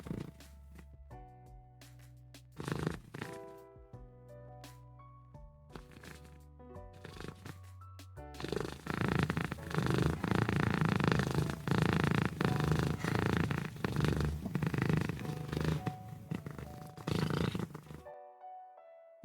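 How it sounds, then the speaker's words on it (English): A cat purrs up close to a microphone in a steady, rumbling run in the latter half, after quieter stretches with scattered tonal sounds. "Now we can hear you purr."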